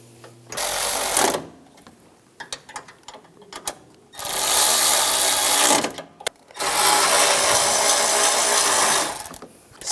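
A ratchet tightens bolts on the AC condenser of a 2004-2009 Toyota Prius, delivering loud bursts of rapid clicking separated by short pauses and a few softer taps.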